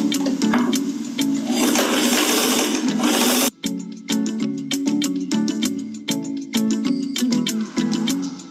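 A sewing machine stitches a seam down the side of a bag thickened with fusible interfacing, a close rapid mechanical chatter that runs steadily, pauses briefly, then resumes in short stitching bursts.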